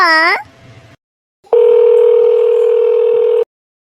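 A telephone emits a short rising electronic chirp, falls briefly silent, then plays a steady, loud, sustained tone for about two seconds as a call is placed.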